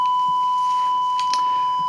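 A Hordijk Rungler modular synthesizer oscillator's direct output gives a steady, piercing electronic tone with a fixed pitch and bright overtones, continuous and unchanging, with a couple of faint clicks behind it.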